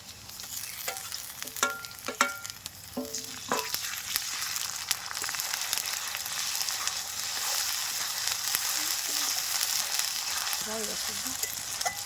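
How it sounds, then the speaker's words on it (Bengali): Ginger-garlic paste frying in oil with fried onions, a constant hiss, and a few spatula scrapes and clinks near the start, close up. "পেঁয়াজটা আমার ভাজা হয়ে গেছে, এর মধ্যে আদা রসুন বাটা দিয়ে দিচ্ছি।"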